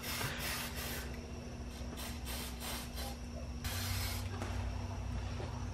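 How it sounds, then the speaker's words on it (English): Aerosol spray paint hissing as flat black coating goes onto a Toyota 1JZ engine block, a steady close broadband hiss in repeated bursts with short gaps, louder and longer near the end, over a constant low hum. "It's literally flat black on a block, so it's kind of just getting sprayed on there."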